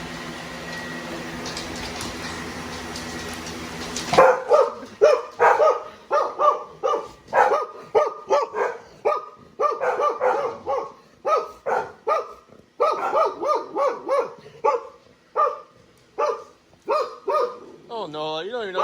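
Pet dogs barking at home around snack time, a rapid run of sharp repeated barks after a few seconds of running-water noise and a faint voice, continuing steadily and loud to the end.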